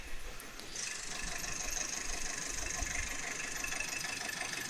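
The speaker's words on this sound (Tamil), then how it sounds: "இதுதான் இப்போ இருக்க இன்ஜின் நாய்ஸு" A Tata Indica car engine with 300,000 km idles steadily, a constant low rumble with a high whine layered on top, continuous and close, with no talking.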